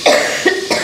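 Three close, loud coughs in a quick series from one person, each a sharp burst with a short voiced tail, heard alone without talk.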